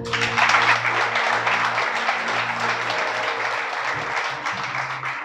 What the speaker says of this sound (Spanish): Un aplauso al Creador.